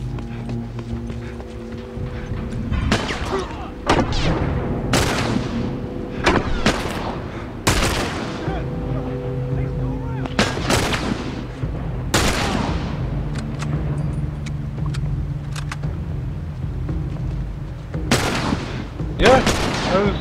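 Gunfire in The Last of Us comes as sharp single shots, spaced irregularly across the twenty seconds, over a low droning game soundtrack.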